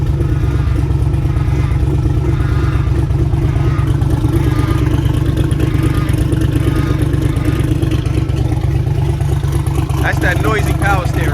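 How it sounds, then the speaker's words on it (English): A twin-turbo LS-swapped G-body car idling high on a cold start, with a steady engine drone and a whining, noisy power steering pump underneath, plus someone talking over it. "That's that noisy power steering, man."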